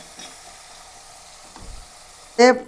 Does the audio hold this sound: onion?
yes